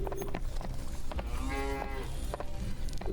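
Cattle lowing on a dock in the video game Beautiful Desolation, a long drawn-out moo in the middle with other animal calls around it, steady and fairly loud over a busy ambient bed.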